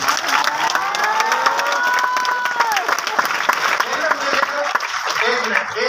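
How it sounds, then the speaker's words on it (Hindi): An audience at a leadership development seminar in Bhopal claps loudly and continuously, with cheering voices and talk rising over the dense applause. "एक मिनट पहले बताओ ताली किसके लिए बजा"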